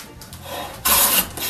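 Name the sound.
hand plane cutting wood end grain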